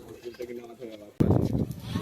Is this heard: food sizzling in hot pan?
no